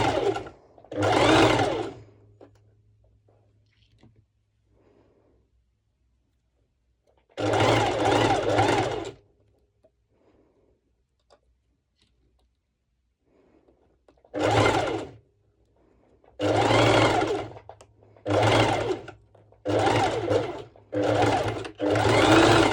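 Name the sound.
serger sewing fabric for a crop top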